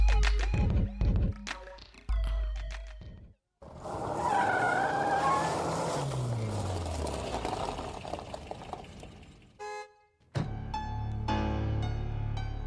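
A car pulls up near a house, its engine and tyre noise swelling loudly for several seconds with a rising-falling whine, then cutting off, framed by brief clattering and music-like tones before and after.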